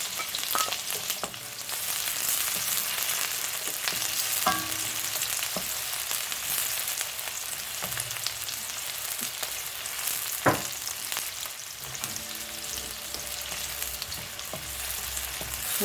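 Chopped onion fries in hot vegetable oil, giving a steady close sizzle throughout, with a few faint clicks and scrapes of a utensil in the pan for a tuna pie filling; no one talks.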